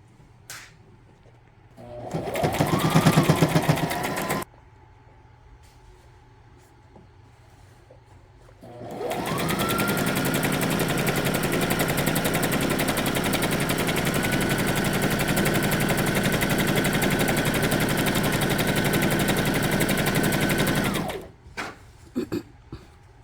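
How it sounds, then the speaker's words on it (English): A sewing machine stitches a straight pant seam in two runs, a short burst then a long steady whirring hum of about twelve seconds, close and loud with quiet handling between. "You can start stitching on top of this line and go straight"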